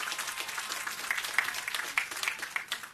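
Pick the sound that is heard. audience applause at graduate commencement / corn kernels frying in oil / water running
audience applause at graduate commencement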